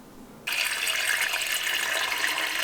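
Tap water pours into an indoor mini fish pond, starting abruptly after a short quiet moment and then running as a steady, close, bright splashing rush.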